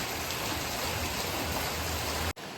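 Steady, even hiss of light rain falling nearby, continuous and gentle, cutting off abruptly near the end.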